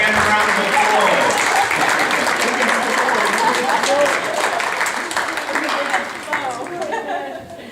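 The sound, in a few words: round of applause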